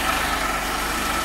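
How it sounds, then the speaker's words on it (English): A 1992 Mercedes 190E 2.0 with KE-Jetronic injection idling, a steady, even engine hum with no shaking or surges, close and continuous for a brief moment. "So here is the engine"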